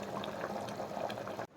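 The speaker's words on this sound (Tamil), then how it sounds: "கிரேவி நல்லா திக்காகிற வரைக்கும் ஒரு 5 நிமிஷம் நல்லா கொதிக்கட்டும்." Mutton intestine gravy boils in a pot with a steady, close bubbling and simmering hiss that continues without a break, then cuts off abruptly at the end.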